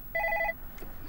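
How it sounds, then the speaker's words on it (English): A telephone rings in a short electronic trill, one clear burst standing alone. "Your phone is ringing."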